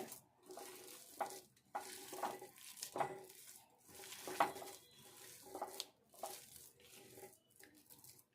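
Maize vada batter being stirred by hand with finely chopped spring onions, producing soft, wet squelching and scraping strokes in an irregular rhythm, close and fairly quiet, with no talking.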